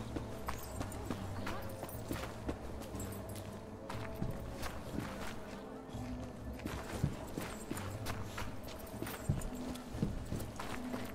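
Horse hooves clip-clopping in the video game The Inquisitor, a steady walking rhythm of hoof strikes over background game ambience, with a low voice speaking now and then.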